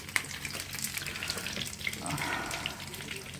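Eggplant pieces fry in a pan with a continuous bubbling sizzle and light spatter, a small clatter near the start and a stronger hiss midway, with no talking.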